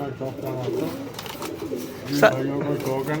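Patti pigeons coo and flutter nearby in a steady low murmur, with people talking over the birds throughout.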